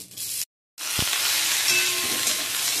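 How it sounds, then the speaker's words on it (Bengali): After a short gap with a soft knock, a steady loud sizzle of cut mango pieces frying in hot mustard oil fills the rest of the clip. "ফোড়নটা ভাজা ভাজা হয়ে আসলে আমি কেটে রাখা আমগুলোকে দিয়ে দিচ্ছি"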